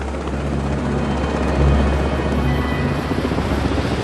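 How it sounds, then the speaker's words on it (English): A rescue helicopter hovers over the ocean crash site of an airliner, its low rotor thrum steady and continuous at moderate distance, with no voices. "Rescue helicopters were soon at the crash site"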